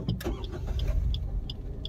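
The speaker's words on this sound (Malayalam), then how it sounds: "ഓട്ടോമാറ്റിക് ആയിട്ട് അത് സ്റ്റാർട്ട് ചെയ്യുകയാണ് ചെയ്യുന്നത്" Car engine restarting automatically through an idle start-stop system as the brake is released, the normal starter cranking briefly before a steady low idle, heard close with faint repeated clicks above.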